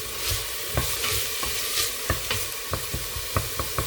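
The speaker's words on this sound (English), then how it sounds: "So I'm just going to cook that tomato paste down, and it'll start enriching it." Tomato paste sizzling and frying in a pot for a tomato and cabbage minestrone, with a steady hiss broken by repeated scraping strokes of a spoon stirring it, close and alone.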